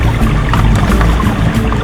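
Waterfall flowing beside a mountain road in Himachal, a loud continuous rushing and pouring roar filling the whole moment, close by and steady.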